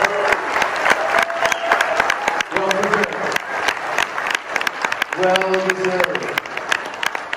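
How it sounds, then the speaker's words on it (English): Audience at a Hot Wheels convention gathering breaks into a sustained round of applause, dense clapping close and loud throughout, with a few voices speaking briefly over it. "a round of applause"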